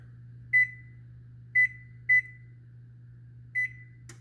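Kitchen oven beeping as its temperature is set to 400 degrees: four short electronic beeps at uneven intervals over a low steady appliance hum.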